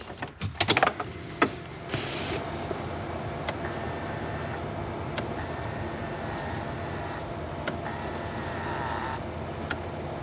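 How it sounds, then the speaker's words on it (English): An LS-swapped Lexus IS300 is started: a few sharp clicks and clunks give way to a steady engine idle, with a faint whining tone coming and going over it. "let's turn the car on and see if it works"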